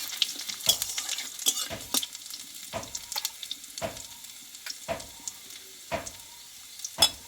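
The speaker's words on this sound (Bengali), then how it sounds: "এটা একটু ভালো করে ভেজে নেব ফোড়নটা" Panch phoron spices crackle and sizzle in hot oil while a utensil stirs, leaving a series of sharp scraping clicks at roughly regular intervals.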